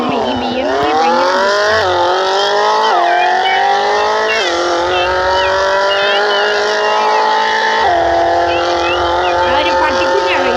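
A BMW M4 in the mobile game Extreme Car Driving Simulator revs loudly and continuously, its synthetic engine whine climbing through repeated gear shifts with sharp drops between them, alongside faint tire noise.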